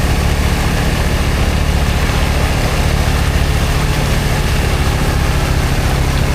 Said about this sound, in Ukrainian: Ох і маньяки газують до отказу.